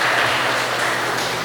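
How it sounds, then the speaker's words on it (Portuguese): A congregation applauds during a church sermon, giving a sustained, dense patter of many hands clapping at moderate loudness that continues steadily throughout. "Você pode dar uma salva de palmas para o Senhor?"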